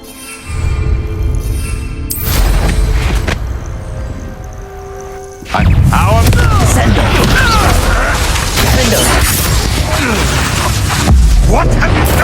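Blasting Confringo spells go off in Hogwarts Legacy battle, loud booming bursts and crashing debris layered with game music, with a big blast around the middle followed by a busy, continuous roar of impacts.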